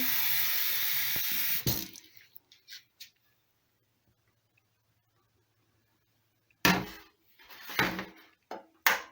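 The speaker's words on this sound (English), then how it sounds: "We're gonna add some water." Water pours steadily from a tap for about two seconds, then stops; after a long silence, splashing and running water return in short bursts.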